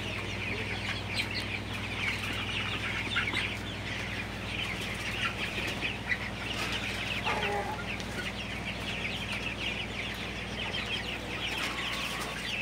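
Sonali super hybrid chickens cluck on a poultry farm as a dense, continuous flock chorus with occasional wing flaps, all over a steady low hum.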